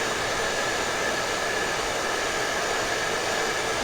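A blow dryer with several small switches runs steadily at close range, giving an even whooshing hiss of motor and airflow with no variation and no talking.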